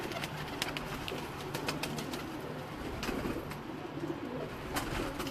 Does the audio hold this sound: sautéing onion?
no